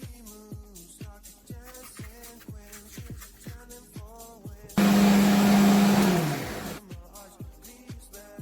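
Condiments for a minced-meat lasagne crushed in an electric chopper, a loud steady whirring burst of about two seconds that winds down, set between stretches of rhythmic repeated kitchen sounds.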